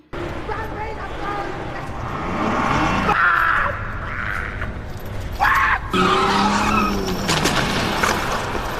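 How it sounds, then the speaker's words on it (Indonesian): A car in a film drives off dragging a person, its tires skidding and squealing loudly against a busy, dramatic soundtrack with engine roar, building in bursts across the scene. "Jimmy menghiraukannya dan langsung menjalankan mobil menarik Lion hingga mati"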